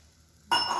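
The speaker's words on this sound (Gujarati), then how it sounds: "આપણે એમાં થોડું પાણી ઉમેરીશું" Water goes into a hot pan of eggplant mixture for Gujarati ringan nu bhartu (oro). After a quiet lead-in it bursts into a sudden, loud, sustained sizzle and hiss.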